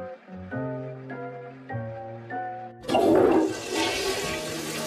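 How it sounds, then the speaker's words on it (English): Toilet flushing, a sudden loud rushing gush of water that follows a short melodic tone sequence and stays loud to the end, with no voices. "Now let's pull up my pants and underwear and flush the toilet."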